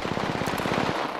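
Rapid automatic gunfire in the shooter Apex Legends, a dense rattling burst of closely spaced shots that runs steadily and then stops abruptly near the end.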